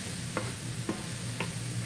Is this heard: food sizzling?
yes